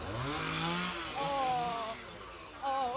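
Chainsaw noise at the Tear in the Corn haunted house attraction: a loud, continuous buzzing drone with a wavering pitch that rises and falls over about three seconds, fairly close.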